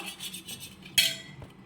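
A spoon stirring a curd mixture in a bowl makes soft rhythmic swishing strokes that end in one sharp metallic clink, then a faint tap, close and quiet.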